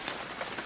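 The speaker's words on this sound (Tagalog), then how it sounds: "patilain muna natin yung ulan." Rain falling steadily, a dense close hiss of drops on surfaces with no talking, lasting under a second.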